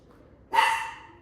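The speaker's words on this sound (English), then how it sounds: "Dogs don't like skateboarders." A single dog bark rings out suddenly after a quiet start and trails off over about a second, reacting to skateboarders rolling past outdoors.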